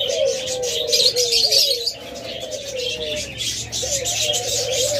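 A pair of brown ring-neck doves sitting on eggs coos steadily and fairly close, repeated low calls running together, with faint chirps and a brief wing flutter.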